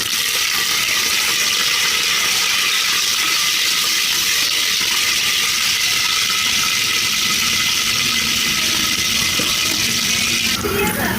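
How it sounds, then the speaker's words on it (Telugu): Dried red chilies and coarsely crushed garlic frying in hot oil as a tempering for hotel-style sambar, giving a steady, bright sizzling hiss that holds evenly throughout and shifts slightly right at the end. "ఇవి కొంచెం కొద్దిగా ఫ్రై అవ్వాలన్నమాట ఈ తాలింపు"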